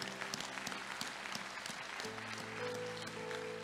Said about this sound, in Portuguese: aplaude a Deus